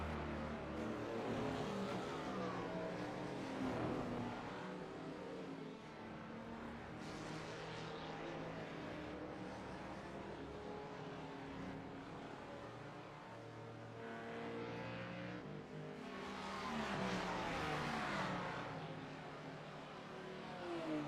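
An onboard BMW race car laps Sebring, its engine loud and continuous as it revs up through the gears with repeated rising pitch sweeps and brief dips at the shifts. No voices.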